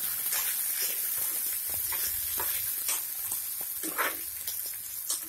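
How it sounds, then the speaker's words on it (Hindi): Chopped onion, tomato, green chili and peas fry in a pan for poha, giving a steady soft sizzle and hiss with occasional stirring scrapes and clicks, close and fairly quiet. "अब हमारा प्याज टोमेटो हरी मिर्च अच्छे से भून गए हैं। अभी इसमें हम मटर के दाने डालेंगे"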